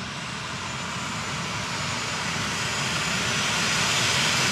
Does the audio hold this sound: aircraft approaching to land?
yes